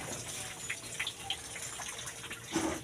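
Tap water running steadily into a kitchen sink for dishwashing, a close continuous splashing stream with a few brief clinks of dishes.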